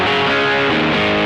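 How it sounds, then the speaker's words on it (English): Electric guitar through a distortion pedal pushed harder, giving a dense, saturated chord held loud and steady without any voices. "And if I can push that distortion"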